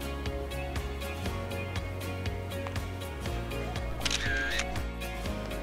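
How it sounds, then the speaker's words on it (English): A smartphone camera shutter fires once to take a selfie on a voice command, a short bright click-and-whir partway through, heard over steady background music. "Hey Google, take a selfie."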